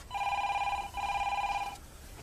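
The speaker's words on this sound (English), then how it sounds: "I was going to answer the phone." A telephone bell rings indoors in two loud, even bursts with a short break between them, then stops, leaving quiet room tone.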